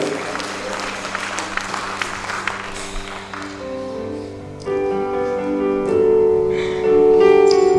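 Congregation clapping during a church evangelistic service, with a loud wash of applause and chatter early on that gives way to sustained organ or keyboard tones and voices.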